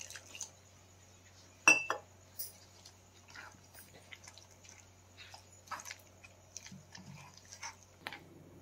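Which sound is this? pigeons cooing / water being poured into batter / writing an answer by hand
water being poured into batter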